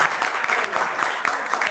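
Classroom applause from students clapping for their teacher at the end of a civil law lecture, a dense steady patter of many hands lasting under two seconds with a voice or two mixed in.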